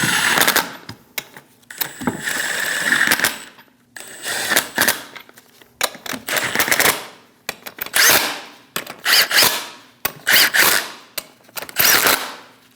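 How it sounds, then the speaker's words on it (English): Rear lug nuts being snugged down on a 2003-2025 Chevrolet Express 2500 wheel, heard as repeated loud bursts of mechanical rattling and whirring, close up, separated by short pauses. "Snug the nuts down."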